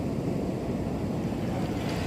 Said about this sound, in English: And the beautiful, wild Atlantic Ocean.